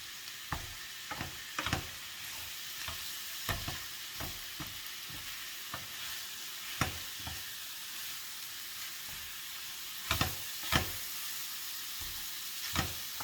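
Meat fries and sizzles steadily in a pan while a utensil scrapes and stirs it in irregular clattering bursts, close and fairly quiet, with no talking.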